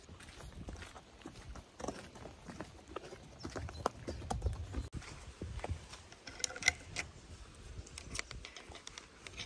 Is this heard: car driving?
no